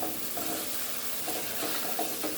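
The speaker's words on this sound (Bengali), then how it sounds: "মশলা কষিয়ে দিয়ে দিয়েছি আলু।" Potatoes fry and get stirred in a spice masala in a pan for a pabda fish curry, giving a steady close sizzle with periodic scraping stirs.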